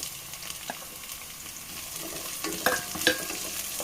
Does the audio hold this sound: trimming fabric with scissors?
no